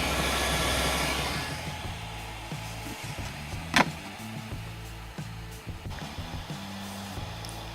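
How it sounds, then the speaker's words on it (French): A small cooling fan spins up and then runs steadily inside a homemade wireless power transmission cube that has a ferrite toroid coil. It gives a soft, constant whirr with a faint low hum, and a brief click interrupts it partway through. "quand on allume, le ventilateur se met en marche et on n'entend plus cette tore de ferrite"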